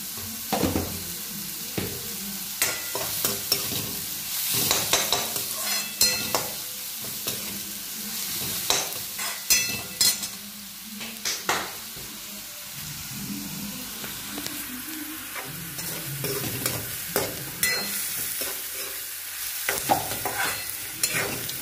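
Salted onion fries in an oiled pan for a bitter gourd dish, a constant sizzling hiss close by, punctuated by repeated scraping and knocking from a spatula stirring the pan, with no voices.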